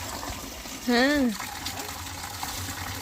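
Rainwater running off a roof splashes over a motorbike being washed outdoors in the rain, a steady close gush of falling water, with someone speaking briefly over it.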